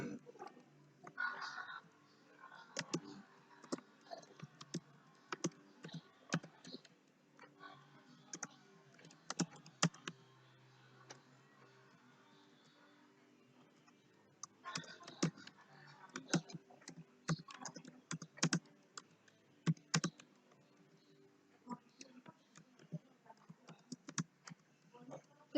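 Keyboard typing in bursts of quick, light clicks, with pauses between runs of keystrokes, fairly close and quiet against a still background.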